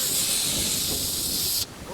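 A powder fire extinguisher sprays in a loud, continuous hiss that cuts off abruptly near the end, leaving quieter outdoor ambience during a fire-suppression exercise.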